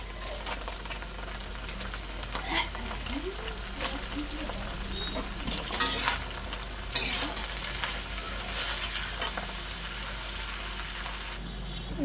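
Cut, washed spinach goes into a pan of hot oil with fried onion paste and is stirred, a soft sizzle under repeated scraping and clattering strokes, with occasional louder bursts.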